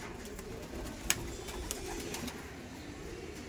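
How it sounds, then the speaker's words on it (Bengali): At a Giribaj pigeon market, a male pigeon coos softly, with faint clicks and a busy low background of the market around it. "নর পায়রা দাদা, নর পায়রা"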